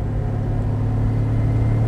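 A 1959 Mercedes 300 d Adenauer limousine of about two tonnes and 160 PS pulls hard under kickdown, a loud, close, steady engine drone with no talk.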